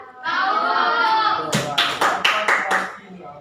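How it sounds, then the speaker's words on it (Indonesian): Classroom of students at a senior high school claps hands in a counted pattern: a sustained voiced count, then five or six sharp, evenly spaced group claps. "Tepuk 1, tepuk 2, tepuk 3, tepuk 4."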